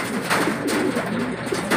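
Pigeons fighting, one dove giving low, throaty cooing calls up close, steady and loud through a short burst of fluttering commotion, with no talking.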